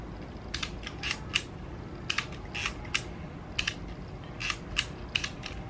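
An Olympus Pen half-frame camera shutter fires repeatedly at its slowest speed after cleaning, producing a series of sharp mechanical clicks and short whirring buzzes in irregular bursts, close and clear with no talking.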